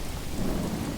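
Steady rain with a low rumble of thunder in the Manor Lords city-builder game, a brief, even wash of weather ambience with no voices.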